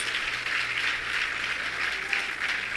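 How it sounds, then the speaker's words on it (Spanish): A church congregation applauding together, a dense, even wash of clapping that holds steady and fairly loud throughout, with no talking over it. "Reciba un fuerte aplauso y una bienvenida de toda la gente de Casa de Dios"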